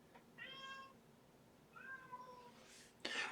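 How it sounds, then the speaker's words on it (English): A cat meows twice in a quiet indoor room, each call drawn out and clear, with a short sharp burst of noise right after the second. "A damn cat."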